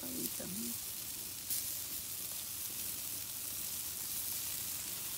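Food sizzles and fries in a pan over an outdoor wood fire, tortillas toasting with a steady broad hiss and a brief voice-like tone near the start.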